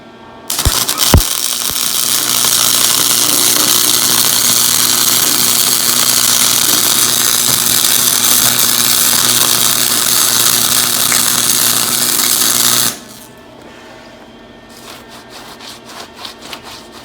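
An arc welder crackles and buzzes in one continuous loud burst of about twelve seconds while a handle is welded onto a steel sledgehammer head, then stops, leaving quieter clicks and shuffling.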